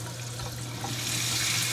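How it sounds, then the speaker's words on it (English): Low-pressure, cool, clean water streams steadily over a K&N air filter as it is rinsed, making a continuous hiss that grows a little louder toward the end. "And you keep rinsing until the water runs clear."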